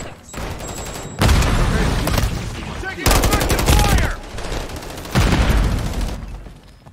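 Rapid gunfire from multiplayer Call of Duty: Modern Warfare III, with three loud bursts of automatic shots separated by short gaps, close and dominant, with faint game voice lines beneath.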